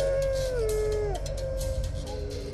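Sled dogs howl at night on the Iditarod Trail in the Alaskan wilderness during the 2008 race. A long, wavering howl slides downward and other voices join faintly over a steady background rumble.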